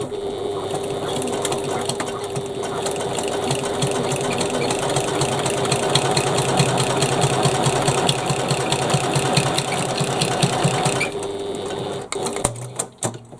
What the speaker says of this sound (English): So we're going to stitch that now